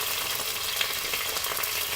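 Cumin seeds crackle and fry in hot oil in a pan while sabudana khichdi is made, a steady, moderately faint hiss over two seconds with no talking.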